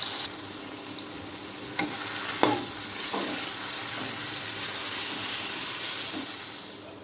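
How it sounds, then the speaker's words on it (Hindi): Taro root (arvi) pieces fry in oil in a kadai over medium heat, a steady close broadband sizzle with a few sharp clinks and pops from stirring. "दरमियानी आंच पर अरवी को फ्राई करेंगे"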